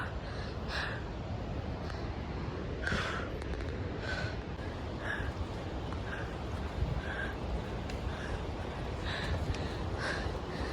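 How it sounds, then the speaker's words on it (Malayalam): Heavy, rhythmic panting comes close to the microphone while someone climbs trekking steps, repeated breathy gasps at a steady pace over a quiet outdoor background. "എൻ്റെ കിതപ്പ് മാത്രമേ കേൾക്കുന്നുണ്ടാവുള്ളൂ"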